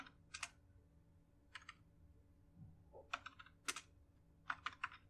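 Keys tapped on a computer keyboard while entering MATLAB code, short bursts of crisp clicks separated by brief pauses, close up and alone.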